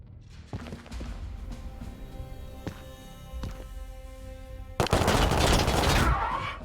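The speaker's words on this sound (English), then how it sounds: "You think an auto gun is gonna stop me?" Autogun fire in the video game Warhammer 40K Chaosgate: Daemonhunters: a few sharp, separated gunshots over a humming background, then a loud, dense burst of rapid fire that roars on for about two seconds.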